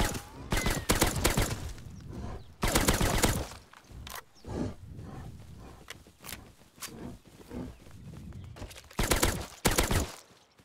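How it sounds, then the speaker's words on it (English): Bursts of automatic gunfire in the survival video game Rust come in dense rapid volleys, loud and close, separated by quieter gaps with scattered single shots, and no talk over them. "Someone's shooting."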